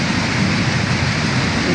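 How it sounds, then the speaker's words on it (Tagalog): Heavy rain pouring down in a dense, even wash of hiss that stays loud and steady throughout, with no voices and no breaks. "Talagang malakas po ang ulan."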